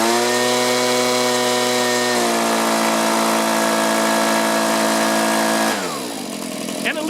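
A STIHL chainsaw engine running too rich holds a loud, steady buzzing drone, then throttles down in two clear steps near the end as it loses power.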